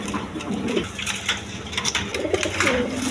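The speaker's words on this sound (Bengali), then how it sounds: "দেখেন লাল খাকি চুইটাল কবুতর, একদম কোয়ালিটি ফুল কবুতর।" Red khaki pigeons coo at a busy pigeon farm. Their low, rolling calls repeat close by and fairly loud over a steady background of other birds, with no one speaking.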